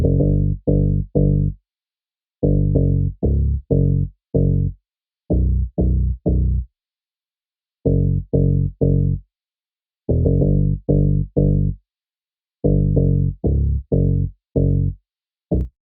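Layered Afrobeat synth bass line built from stacked presets, playing short punchy staccato notes in syncopated groups with brief gaps, loud, close and alone with no voice.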